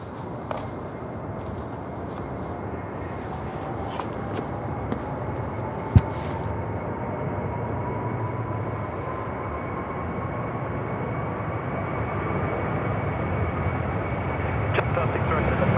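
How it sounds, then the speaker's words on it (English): A Qantas airliner takes off from runway 34 left at Sydney Airport, its engines producing a steady broad roar that slowly builds in loudness as the takeoff roll continues. "Qantas 19, service to Manila, now rolling, runway 34 left"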